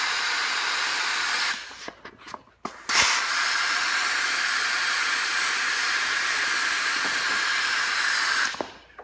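Air pump inflating a Ritcraft inflatable boat gives a steady loud hiss of rushing air, cut by a few short pauses near the start, then continuing evenly until it drops off at the end.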